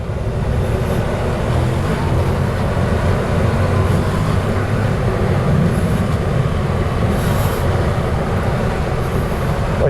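Voge 625 DSX motorcycle engine running steadily at speed, a loud continuous drone with wind rush blending in, close and unbroken throughout.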